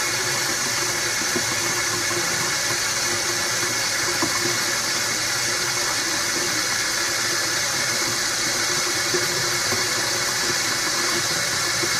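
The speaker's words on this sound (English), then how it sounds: "I'm going to let the water on here get warm" Steady water from a tap rushes continuously while it runs to warm up, a close, even hiss with no pauses and no voices.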